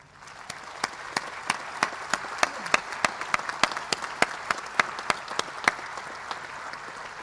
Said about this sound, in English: could you please turn around and applaud them for their support?